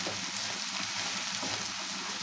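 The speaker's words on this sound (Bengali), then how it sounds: "তেলে ভেজে নিচ্ছি।" Onions, whole garam masala and white cardamom frying in oil in a village-style kitchen, a continuous loud, close sizzle with no talking.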